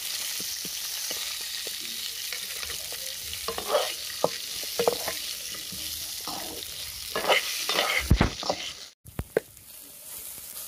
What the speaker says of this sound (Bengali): এর মধ্যে আমি 2টো টমেটো, লাল কাঁচা লঙ্কা, 2টো পেঁয়াজ আর রসুন দিয়ে দেব।